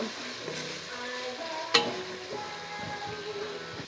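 Ginger and garlic frying in a pan for a broiler chicken and radish curry, a soft steady sizzle with a spoon scraping and stirring and one sharp clank partway through, no talking.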